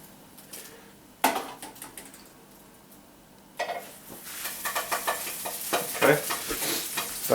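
Butter melting and sizzling in a pan while a batch of American pancakes cooks, a steady frying hiss broken by scraping and clattering of utensils and pan that grows busier and louder toward the end.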